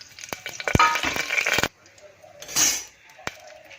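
Cumin and whole spices sizzle in hot oil in a pressure cooker for Gujarati desi chana pulao, with sharp clinks of a spoon against the metal pot over a steady frying hiss, close and fairly loud.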